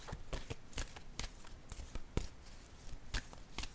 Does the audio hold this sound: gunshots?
no